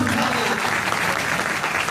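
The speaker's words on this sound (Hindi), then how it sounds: "सम्मान में दिल से तालियां बजाना" Audience at a 7th-level achiever recognition event in Manesar, Gurgaon applauds steadily and loudly, a dense continuous clapping that fills the whole short stretch without a break.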